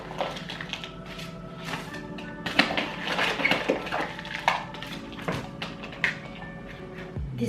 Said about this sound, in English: I'm gonna take out some of the soil at the bottom there